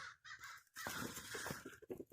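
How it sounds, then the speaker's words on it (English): Crows caw harshly in a quick series of rough calls, faint and distant, with no other sounds around them. "crows again this morning"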